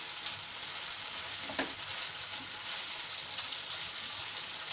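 Broccoli manchurian fries in a pan with a steady, close hiss of sizzling oil and a few soft stirring scrapes, with no voices.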